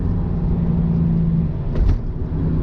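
Porsche 993 with an upgraded exhaust heard from inside while driving, giving a steady, throaty low engine rumble and drone throughout, with a slight swell near the end.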